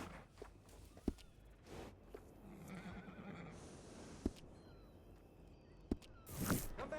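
A horse in Red Dead Redemption 2 gives a clear neigh among sparse clip-clop hoof steps and a few sharp knocks, set against quiet outdoor ambience.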